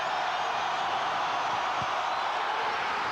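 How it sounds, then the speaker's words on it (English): A basketball arena crowd at a college game roars in a continuous, dense wash of cheering and noise that holds steady from start to end, with no distinct voices standing out. "But did you hear the crowd?"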